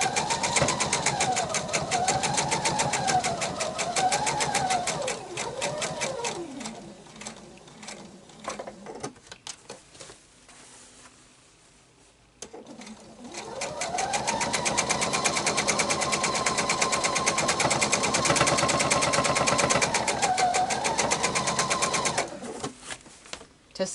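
A sewing machine stitches a quilt table topper with a steady, close mechanical whir whose pitch rises and falls with the sewing speed, easing into a quiet pause midway before running fast again.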